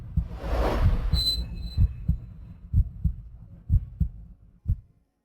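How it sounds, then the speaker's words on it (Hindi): Heartbeat sound effect, a steady run of deep, soft double thumps in an even rhythm that stops abruptly. A brief swell of other sound opens the sequence, and no one speaks. "इसकी वजह से मेरा दिल जोरों से धड़कने लगा है।"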